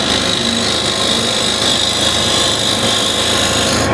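A hand scraper shaves side-grain wood, a continuous loud dry rasping hiss held steadily for a few seconds with no break.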